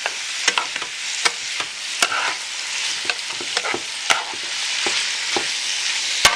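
Beef for stroganoff searing in a hot pan makes a bright, close sizzle broken by sharp pops and spatters, plus scraping clicks from stirring, with no voices.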